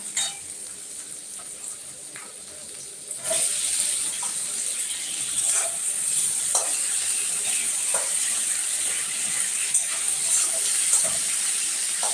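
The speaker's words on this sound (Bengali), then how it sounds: "দেখো পেঁয়াজটা ভাজা হয়ে গেছে মোটামুটি এরপর আমি দিয়ে দেবো হচ্ছে টমেটোটা" Onion and tomato fry in a pan with a steady, close sizzle that grows noticeably louder and hissier partway through, with scattered pops and crackles.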